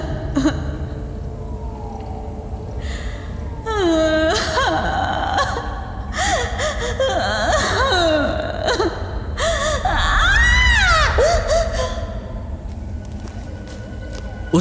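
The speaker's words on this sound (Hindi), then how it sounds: "सिसकने की आवाज बढ़ने लगी।" A woman sobs and whimpers in a horror story, her crying rising and falling in shaky, wavering cries over a steady low rumble, growing louder and more intense toward the end.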